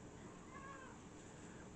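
A pet cat gives a single faint meow, brief and somewhat distant, under steady background noise.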